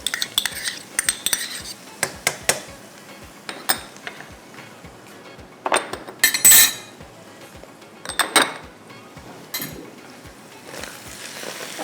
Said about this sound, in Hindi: अच्छे से आपने इसको इस तरह से मिक्स कर देना